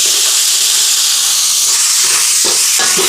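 Tomatoes added to a hot pan of frying eggplant, ginger and garlic give a loud, steady, close sizzling hiss throughout, with a few brief bursts of crackle near the end.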